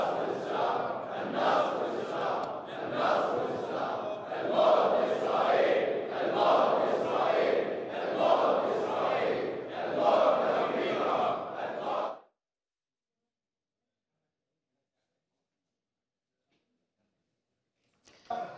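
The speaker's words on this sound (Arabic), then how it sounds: "وقد ردد المصلون في مسجد الإمام الصادق في مدينة الدراز هتافات منددة بإسرائيل وبالولايات المتحدة الأمريكية." Worshippers at the Imam al-Sadiq mosque in Diraz, Bahrain, chant slogans denouncing Israel and the United States, a loud massed crowd voicing rhythmic rising and falling shouts for about twelve seconds before abrupt silence, with a brief burst at the end.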